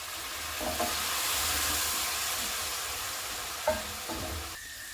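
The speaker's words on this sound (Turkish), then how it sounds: "Baharatlarımızı ekleyip karıştırdıktan sonra yarım su bardağı suyumuzu ekleyip tekrardan karıştırıyoruz." Tantuni meat being stirred in a pan with spices and half a glass of water, a steady close sizzle of frying with a few clinks of the spoon against the pan and no voices.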